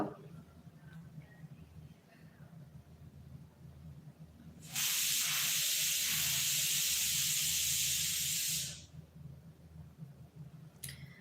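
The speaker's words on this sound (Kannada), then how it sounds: "ನಮ್ಮ ಮನೇಲಿ ಕುಕ್ಕರ್ ಕುಗ್ತಾ ಇದೆ" Pressure cooker at home letting off steam, a loud, harsh hiss that bursts in suddenly and holds for about four seconds before cutting off, between quieter background stretches.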